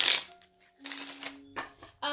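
Tarot cards riffle and flutter in a few short bursts close by, with brief pauses between shuffles and a soft hum underneath.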